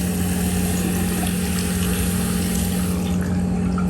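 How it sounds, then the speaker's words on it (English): Running water from a tap splashing steadily over soil to wash apart tightly packed seedlings in a rooftop garden in Hong Kong, a constant close gush with a low hum beneath it. "We're going to have to get some water and wash these apart."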